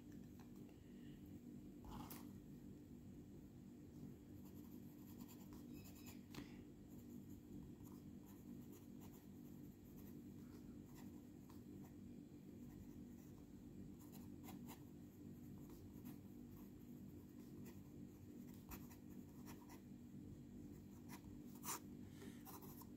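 A new old stock Eagle fountain pen nib scratches softly across paper in short strokes, faint and close, over a steady low background hum.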